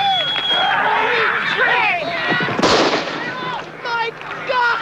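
A single gunshot from the film MASH cracks out loudly about midway, a sharp broadband bang set among voices and a busy background of crowd noise.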